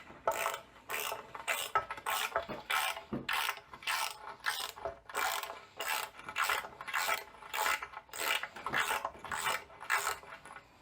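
A half-inch drive ratchet clicks in a quick rhythmic series of strokes while working on a car transmission, each pull giving a raspy burst of pawl clicks, close and steady with no talking.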